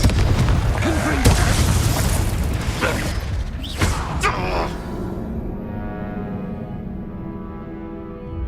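Repeated Confringo blasting spell explosions in Hogwarts Legacy duel combat: sharp booms and pops cluster in the first half, then fade into a low lingering rumble, with spoken voices mixed in.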